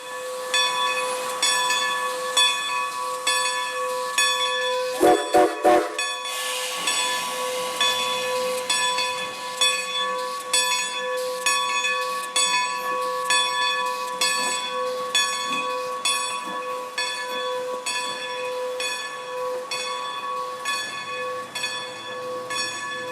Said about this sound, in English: Here the locomotive once again runs around to the other end of the train.